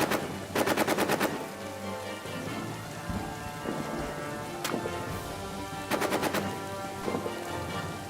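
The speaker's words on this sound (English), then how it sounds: "Leave those guys to man the machine gun." Rapid machine gun bursts in the trench-warfare game All Quiet in the Trenches, several loud rattling volleys spaced across a steady roar that resembles rain and distant rumble.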